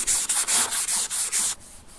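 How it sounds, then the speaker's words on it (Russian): A rough plastic part from a Sea-pro T2.6S outboard being polished by hand, heard as loud, close back-and-forth rubbing strokes in an even rhythm of about six passes that stop near the end. "Решил, что поверхность слишком грубая. Немного полирну ее."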